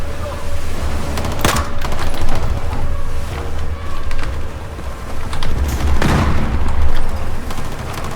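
Grenade blasts and gunfire in the Battlefield 4 Singapore mission on hard difficulty, two sharp loud booms about four seconds apart over a constant din of rattling shots and rumbling battle noise.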